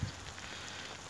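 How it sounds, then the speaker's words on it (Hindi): Light rain falls softly over open village fields, a faint, even hiss of drops lasting about a second with no other sound. "बारिश इतनी तेज़ भी नहीं है"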